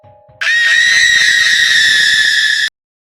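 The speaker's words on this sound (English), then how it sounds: "she released a terrifying scream that echoed through the castle" A ghost's shrill, terrifying scream cuts in suddenly and holds loud and steady for about two seconds before stopping abruptly, ringing out as if through a castle.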